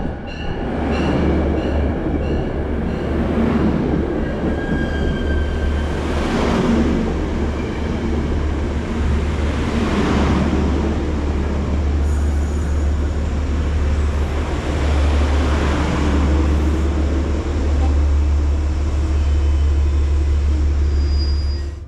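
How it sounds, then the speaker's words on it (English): A New York Central heritage commuter train, number 1897, pulls into the Merritt 7 station platform with a deep, loud, continuous rumble of wheels and cars, and a cab car horn sounds near the start. "train 1897 is seen arriving with a blast from the cab car horn to announce its presence"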